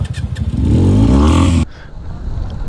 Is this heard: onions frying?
no